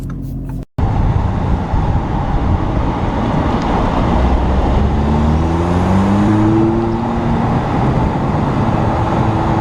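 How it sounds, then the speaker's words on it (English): A 2017 Audi S3 passing by on a road, a loud continuous rush of engine and tyre noise with a rising and falling drone, heard close and alone after a brief cut at the start. "In the drive-bys, you'll hear the sound of the car better."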